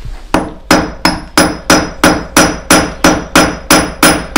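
A hand tool hammers the stone face of a millstone being dressed at a mill, twelve sharp, evenly spaced metallic strikes ringing out close and loud, each with a short decay and no voices.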